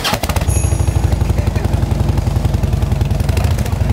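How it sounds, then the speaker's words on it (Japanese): A Harley-Davidson motorcycle engine idles close by with a loud, loping, rhythmic low thump and a steady mechanical clatter on top. "じゃあエンジン音を聞きましょう。"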